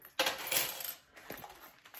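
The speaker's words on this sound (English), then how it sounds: "We have quite the coins here." Coins tumble and clink together in a quick metallic jingle, a close cascade of several bright chinks with a couple of fainter follow-up rattles, heard alone without voices.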